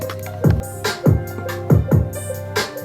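Piano chords played alone with sharp drum hits landing on each chord, a steady mid-tempo beat with bass notes ringing underneath.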